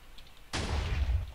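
An Avery cannon fires in a Minecraft-style team war match, a single sudden deep boom that hits hard and rolls on as a low rumbling tail.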